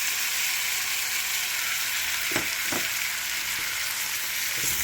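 Grated jackfruit seed hash brown fries with caramelized onion and pepper in a hot pan, giving a constant hissing sizzle close by, broken only by a few light clicks of a utensil.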